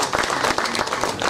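An audience at a Telugu film speech event bursts into dense, loud applause with many hands clapping at once, filling the room briefly.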